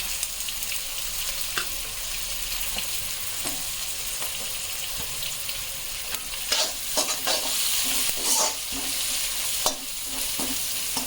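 Fish frying with salt and turmeric for a Telugu fish curry, a strong continuous sizzle with scraping stirs and clattering utensil hits growing busier toward the end, close up with no talking.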